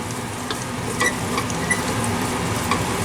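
Pasta tossed with pesto in a pan, a continuous near sizzle and soft stirring scrape with a few light clicks, no voices.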